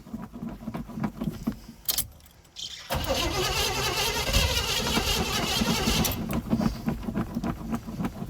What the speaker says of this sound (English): we tried starting it to see if it would fire up